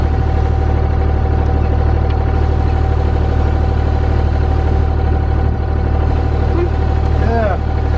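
A Subaru GC8 Impreza turbo with an EJ20 engine is cranked over to build oil pressure on its first start after winter, a loud steady mechanical drone running continuously throughout, close up with no talk.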